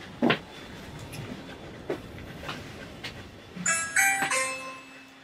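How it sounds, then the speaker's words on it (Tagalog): A doorbell rings at a family house's front door: a bright two-tone chime sounds close by near the end, after a few scattered knocks or footsteps in a quiet room. "Rita, mag-doorbell ka na, anak"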